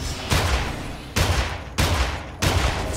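Four loud gunshots from the Immortal Redneck game ring out at an uneven pace, each with a short tail of echo.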